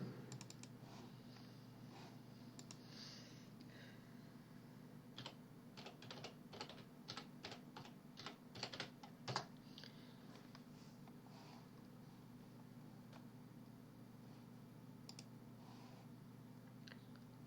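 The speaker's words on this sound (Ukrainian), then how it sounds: "Набираємо назву сайту Фізика.in.ua." Quiet keyboard typing: a run of quick key clicks in the middle over a steady low hum, then the clicking fades.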